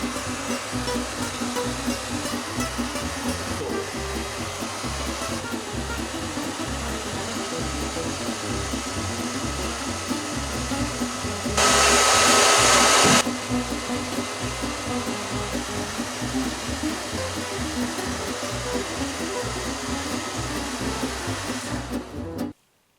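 Hair dryer fitted with a diffuser blowing on hair, a continuous close-up whooshing drone that holds steady for over twenty seconds with a brief louder surge partway through before cutting off.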